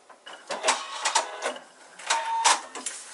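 A domestic sewing machine runs in short bursts of rapid, whirring stitching on fabric for foundation paper piecing, each burst stopping and restarting as the stitching backs up, close and fairly loud with no talking.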